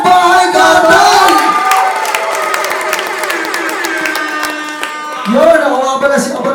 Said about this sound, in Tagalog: Aking pong hinihingi ang malakas na palabakan at sigawan ng bahay kartal!